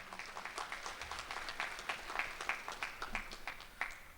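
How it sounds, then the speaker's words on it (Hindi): An audience at a mushaira and kavi sammelan in Dubai gives a round of applause, with steady, moderately distant clapping that holds throughout. "सैयद सलाहुद्दीन की हौसला अफजाई के लिए एक बार बहुत सारी तालियाँ"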